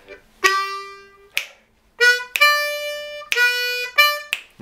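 Harmonica playing a one-chord bass line pattern: short, reedy draw chords in a bouncing rhythm, several close, bright stabs separated by brief gaps, played alone.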